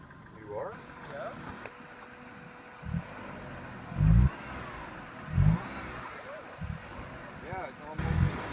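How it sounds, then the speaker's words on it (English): An off-road vehicle engine revs in short bursts as it bogs out on a trail with no clearance left, several loud surges rising over a rumbling idle, with people talking nearby. "I just ran out of clearance. I'm bogging out."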